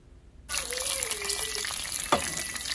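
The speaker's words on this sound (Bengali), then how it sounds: "একদম ভালো করে খাওয়ার মতো করে ভেজে নেব" Tilapia pieces fry in oil toward golden brown in a Bengali-style home kitchen, a steady broadband crackle starting abruptly after a brief quiet, with a faint tonal whine and one sharper clatter near the end.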